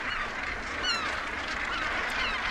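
A dense colony of northern gannets calling at a crowded seabird breeding site, overlapping harsh honking cries forming a continuous racket with a few sharper calls standing out.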